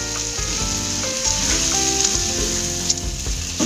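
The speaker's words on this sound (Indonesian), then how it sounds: "Kita masukkan udangnya. Nah, lalu kita aduk udangnya bersama dengan bumbu." Shrimp sizzle steadily in a pan while being stirred with spices, onions and garlic over lowered heat, a close continuous crackle broken by clinks and scrapes of the utensil, with no voices.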